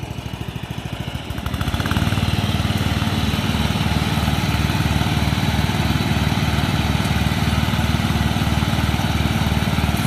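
A Briggs & Stratton–powered lawn mower runs loud and close, pushed by hand across grass; its engine rises to full, steady drone after a quieter first second and holds an even, buzzing rhythm alone.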